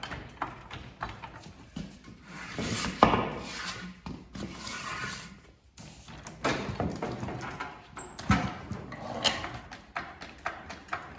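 A John Deere S110 lawn tractor is tilted over, giving scattered close knocks, creaks and scraping clunks from the machine's body.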